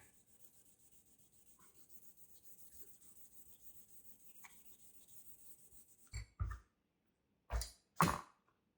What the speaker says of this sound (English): So I'll just give that a nice good consistent sand.